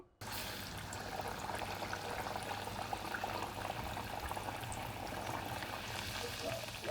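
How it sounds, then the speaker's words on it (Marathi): Vadas for a fasting-season dahi vada dish drop one by one into plenty of well-heated oil, giving a steady, dense bubbling crackle that runs loud and unbroken for the whole stretch, close up. "आता हे एक एक वडे मी ह्या तेलामध्ये सोडते आहे"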